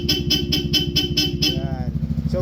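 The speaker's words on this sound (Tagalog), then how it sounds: "So sige, busina ka." A Bosch Europa horn on a Yamaha XMAX300 scooter gives several rapid, loud, close honks in quick succession and then stops, with a brief voice heard at the end.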